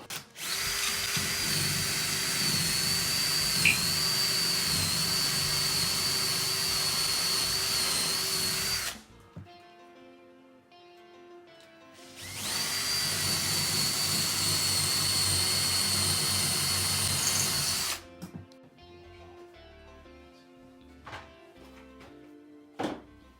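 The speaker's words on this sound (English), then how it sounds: "I'm going to drill 1/4 inch drill holes for mounting the lag bolts to." A power drill whines steadily as it bores quarter-inch pilot holes into wall studs for lag bolts, two long runs separated by a short pause, close and loud.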